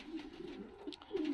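A pigeon from a breeding loft gives a short, soft, low coo that rises slightly at the end, heard faintly on its own.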